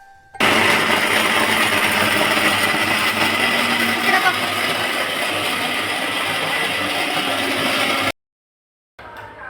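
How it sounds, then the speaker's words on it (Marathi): A mixer grinder runs loud and steady while blending green chutney, a continuous whirring roar that cuts off abruptly near the end, followed by a brief quieter restart. "आता हे मस्तपैकी ग्रीन कलरची आपल्याला चटणी करण्यासाठी मी मिक्सरला लावणार आहे."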